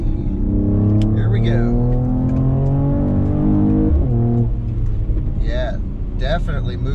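A 2021 Mercedes E53 AMG Coupe accelerates hard: a loud, close engine note climbs steadily in pitch, drops sharply at a gear shift, then pulls again with a rising roar.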